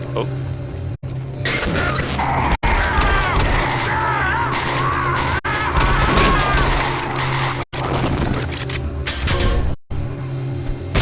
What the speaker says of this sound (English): That shotgun.